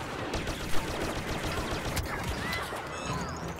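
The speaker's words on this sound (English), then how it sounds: "it's so hard to hit with that cycler rifle" Blaster fire from a cycler rifle battle in the Star Wars Battlefront video game, a dense stream of rapid shots and impacts with one sharp louder blast early on, steady game combat noise throughout with no talk.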